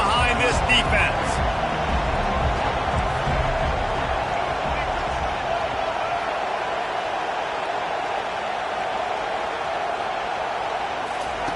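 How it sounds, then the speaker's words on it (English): A stadium crowd at a Tennessee versus Florida football game roars steadily behind the defense on a big third down, a dense, sustained wall of cheering and noise with commentary running over it. "Big third down as the crowd gets behind this defense."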